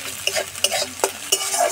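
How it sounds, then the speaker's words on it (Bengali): Salted egg being scrambled and fried in a kadai: quick, rhythmic scraping stir strokes over a continuous close sizzle of hot oil, with no talk. "ডিমটা এরকম করে ঝুরঝুরি করে ভেজে নিতে হবে।"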